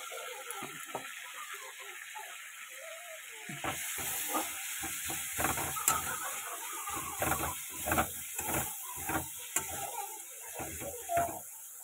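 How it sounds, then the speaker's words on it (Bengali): Food fries in a pan after a little asafoetida goes in, with a steady sizzle under repeated scraping and stirring clatter that grows busier and louder partway through. "এই যে দিয়ে দিচ্ছি অল্প করে একটু হিং, দিয়ে এটাকে পুরো ভাজবো।"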